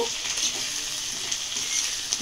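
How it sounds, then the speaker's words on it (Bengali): Onion paste and garlic paste frying in hot oil in a pan, with already-fried taro and potato, for a bhetki fish curry: a continuous close crackling sizzle with faint stirring and no talk. "রসুনের পেস্ট আর পেঁয়াজের পেস্ট দিয়েছি, এটাকে ভালো করে ভাজা করে নিতে হবে"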